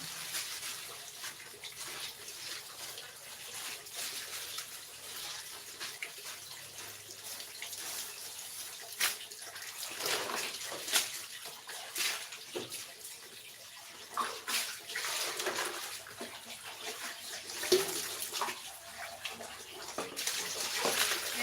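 A tap runs steadily while plastic chicken packaging is washed in a sink, a continuous close splashing of water that swells and sloshes irregularly as the plastic is handled.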